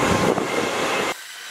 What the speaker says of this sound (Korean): 기차가 정말 한참 지나갑니다.